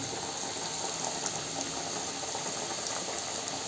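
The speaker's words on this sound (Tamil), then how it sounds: "டபக்கு டபக்குன்னு கொதிக்குது." Dense, continuous bubbling and sizzling of oil frying potato wedges, steady and close, with no talking.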